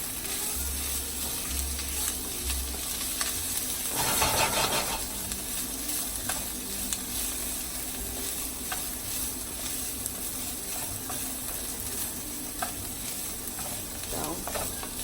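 Hatch chilies frying in a pan, a steady broad sizzle running throughout while they are constantly stirred, with occasional scrapes of the utensil against the sides.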